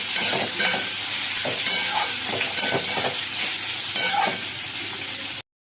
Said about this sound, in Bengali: আগে পেঁয়াজটা একটু ভেজে নেব